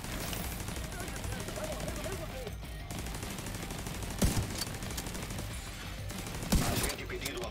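Automatic gunfire from the online shooter Tom Clancy's The Division 2 rattles almost continuously, with a few louder, punchier impacts standing out from the dense battle din.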